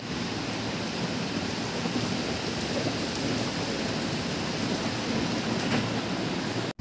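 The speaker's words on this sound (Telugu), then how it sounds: "వర్షం స్టార్ట్ అయింది." Rain falls steadily outside a room, a constant broad wash of noise at an even level, with a sharp click or knock right at the end.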